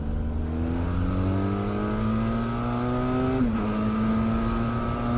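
A 2020 Benelli TRK 502X motorcycle engine revs steadily, its drone climbing in pitch, dipping briefly, then holding a loud, close, continuous note.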